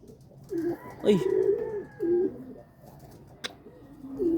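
Several Taiwan racing pigeons coo nearby in short repeated phrases, soft and close in a quiet setting, with brief pauses between calls.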